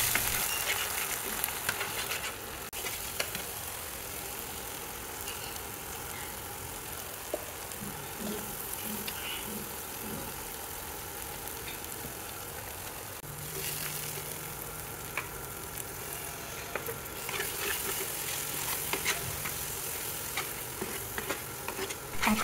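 Ginger, garlic, onion and chili paste fry together in a pan, giving a steady, low, even sizzle that runs on for a long stretch, with faint stirring scrapes and occasional small clicks.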